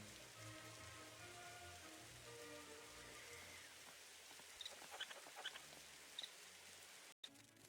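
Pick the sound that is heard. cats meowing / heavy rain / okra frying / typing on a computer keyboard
heavy rain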